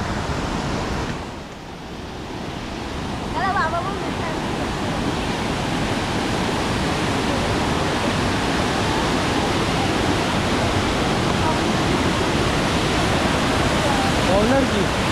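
Mandale waterfall in the Konkan countryside, where visitors cross a river to reach it: a loud, steady broadband roar of falling water fills the entire stretch, unbroken and close.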